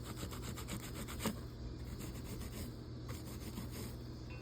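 Wiping flux residue and solder balls off a soldered seam on a stained glass lamp shade, a soft repeated rubbing and scraping stroke, close and quiet, with no voices.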